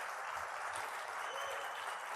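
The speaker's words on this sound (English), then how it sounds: "I'd like to give them a quick round of applause" A conference audience at a UX design event gives the organizers a round of applause, a continuous, full wash of clapping that stays level for a couple of seconds.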